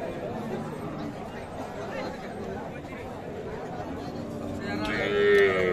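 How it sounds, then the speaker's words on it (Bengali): At a rural cattle market, a Sahiwal cow with her heifer calf gives a low moo near the end, under steady nearby chatter and crowd murmur. "শাহিওয়াল বকনা বাচ্চা।"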